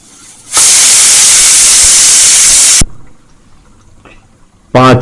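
A pressure cooker cooking lamb curry lets out a loud, steady blast of steam hiss for about two seconds, goes quiet, then starts a sharp rising whistle at the end.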